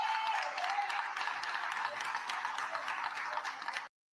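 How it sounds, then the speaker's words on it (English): A meeting audience in Dolton gives Keith Freeman a round of applause, faint but steady clapping that runs for a few seconds before cutting off abruptly. "give Keith Freeman a round of applause"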